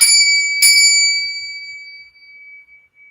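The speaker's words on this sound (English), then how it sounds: "I have a small peace bell that we use in our yoga class." A small peace bell used in a kids' yoga class is struck twice in quick succession, giving bright, clear metallic tones that ring out loud and close, then fade slowly with a long sustained shimmer.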